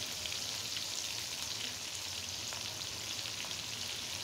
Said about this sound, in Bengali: এখন সুন্দর করে একদম মুচমুচা করে ভেজে নেব